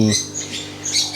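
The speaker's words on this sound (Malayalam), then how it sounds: "അപ്പോൾ നമ്മളെ കിളിക്കുള്ളിൽ പണ്ടത്തെ പോലെ എലിക്കുഞ്ഞുങ്ങൾ വീണ്ടും വന്നു തുടങ്ങി" Baby mice squeak inside a bird aviary: a few thin, high squeaks in a brief moment, close by, after a short low voiced sound at the start.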